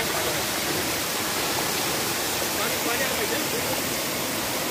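A waterfall spills from above near the Kondhane caves, a dense, unbroken roar of falling water that stays loud and even throughout with no other sounds.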